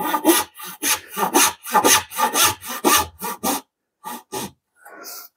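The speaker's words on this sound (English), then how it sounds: "This saw is cutting very nicely in this maple." A hand saw cutting through maple wood: a steady rhythm of about a dozen loud, close rasping strokes, then a pause and two final strokes, with nobody talking.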